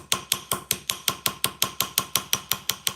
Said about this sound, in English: I'm just gonna use this hammer